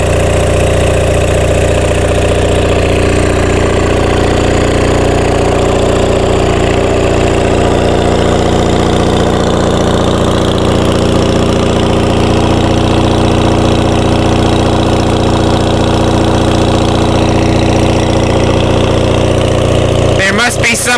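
A rusty, crusty Onan MDJE diesel generator engine runs steadily and loudly at a constant speed, a dense continuous drone that holds without pause for the whole stretch.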